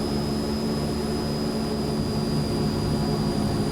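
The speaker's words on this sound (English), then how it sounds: "That is old school turboprop screech," A constant high-pitched screech from the Transall C-160's turboprops rides over a heavy, steady engine roar in Microsoft Flight Simulator, loud and unbroken throughout with no speech.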